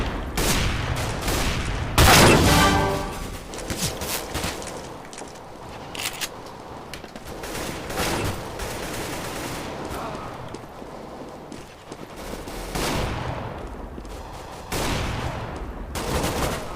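Sawed-off shotgun gunfire in a video game: a series of loud, separate blasts spread over about seventeen seconds, with one especially heavy shot early on and quieter game noise between the shots.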